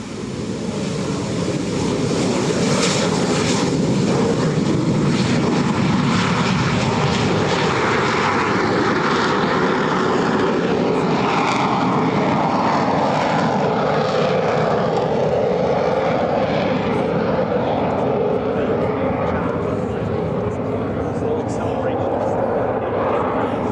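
A loud, continuous jet engine roar from a Messerschmitt Me 262 fills the whole stretch, rumbling and hissing steadily as it takes off along the runway at EAA AirVenture 2025.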